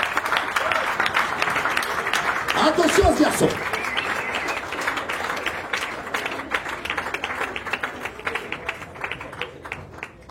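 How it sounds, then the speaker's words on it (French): Audience applause and clapping for a runner being introduced, a dense steady patter of many hands lasting throughout, with a voice speaking over it near the start. "Je vous demande de l'applaudir très fort"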